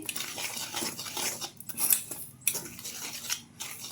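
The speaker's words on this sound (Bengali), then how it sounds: "দেখুন শুকনো উপকরণগুলো আমি খুব ভালোভাবে মিশিয়ে নিচ্ছি।" A utensil clinks and scrapes against a bowl in uneven bursts as dry ingredients for ripe mango fritters are mixed, close and fairly quiet, with brief pauses between strokes.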